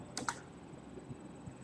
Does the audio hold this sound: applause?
no